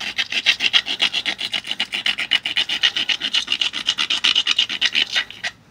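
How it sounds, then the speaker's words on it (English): A stone grinds along the edge of a knapped flint, a close, loud rasping scrape repeated in quick, even back-and-forth strokes, about five per second, with no voices. "then stone grind it"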